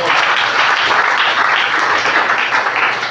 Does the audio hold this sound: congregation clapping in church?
yes